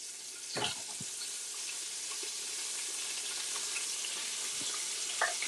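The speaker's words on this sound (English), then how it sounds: "And you can hear that good old sizzling." Chicken pieces frying in a pan, a soft steady hiss of sizzling oil with a few quick clinks and pops near the start and end, faint and continuous without talk.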